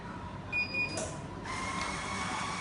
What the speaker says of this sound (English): My machine is dispensing.